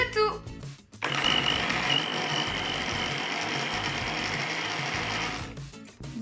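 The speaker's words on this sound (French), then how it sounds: "Donc, nous allons mixer le tout." A blender whirs steadily for about five seconds, mixing a homemade aloe vera moisturizing cream, then spins down; there is brief clatter before it starts.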